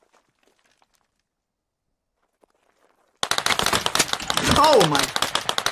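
Close, loud bursts of machine gun and assault rifle fire in the tactical shooter Squad break a near silence, rapid shots running for about two and a half seconds while a player exclaims over them.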